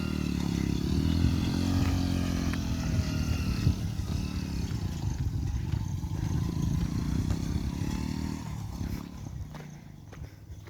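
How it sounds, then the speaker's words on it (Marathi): A motorcycle engine drones steadily nearby, then fades as it rides off into the distance, with faint clattering underneath. "ती बाईक चालली तिथून."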